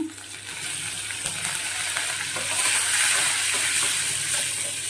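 Curry leaves hit hot oil over a high flame while lentils brown for a Telugu nalleru tamarind stew, giving a loud, steady sizzle and crackle that holds throughout with no talking.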